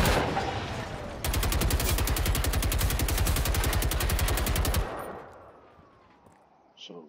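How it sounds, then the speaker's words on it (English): Machine gun fire in the video game Generation Zero, a loud sustained rapid automatic burst of evenly spaced shots lasting several seconds, then cutting off into a fading tail and quiet background. "I told you this gun, this machine gun rocks."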